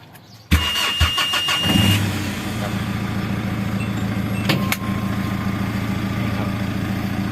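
A 2008 Mitsubishi Triton pickup engine cranks briefly and catches with a sharp burst, revs for a moment, then settles into a steady, even idle up close.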